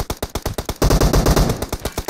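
Rapid gunshots from the PUBG Mobile video game, a steady automatic rhythm of loud, close cracks with a denser, heavier burst of fire in the middle.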